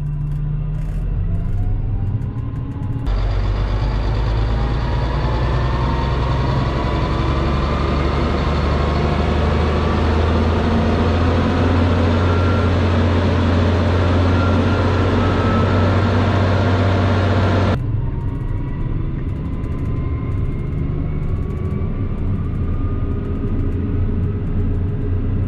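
A Claas Xerion tractor engine roars up to high revs while driving a PTO-powered rotor implement during site clearing, a loud sustained rumbling drone that swells suddenly and holds for about fifteen seconds before dropping back to a steady idle.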